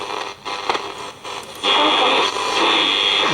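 A Sanyo radio tuned to the long-wave band: static hiss with faint tuning shifts, then a louder, steadier broadcast hiss swelling in; no talk, noisy reception throughout.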